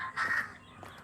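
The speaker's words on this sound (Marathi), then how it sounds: "इथे पक्ष्यांचा आवाज वगैरे खूप भारी येतो" A crow caws outdoors in Madurai, one harsh call followed by a couple of fainter, shorter bird calls in a quiet setting.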